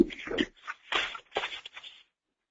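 Dry rustling and shuffling of paper in a few short bursts, fairly close, then quiet at the end.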